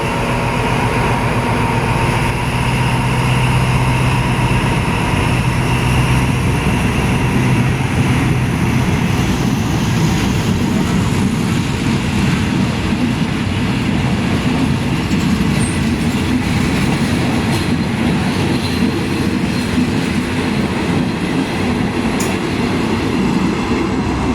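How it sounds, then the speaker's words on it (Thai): Ordinary passenger train 260, running Nam Tok to Thonburi, arriving at Salaya station in Thailand: a loud, steady rail rumble with rolling wheel noise and faint high squeals throughout, no voices. "ที่ขบวนรถจะจอดนะครับ"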